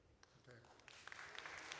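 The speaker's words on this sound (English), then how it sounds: "Again, please hold on to your applause" Applause from a town meeting audience, a short burst of clapping building quickly and continuing under background room noise.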